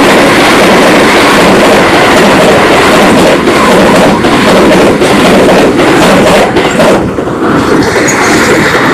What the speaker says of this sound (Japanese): 通過するね、準特急がやってきました。